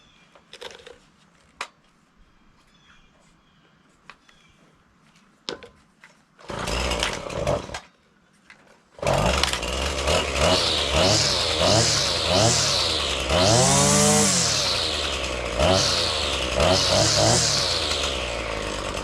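A Husqvarna 525L string trimmer with heavy vibration is pulled over a few times, then starts and runs loud and close with revving bursts that rise and fall.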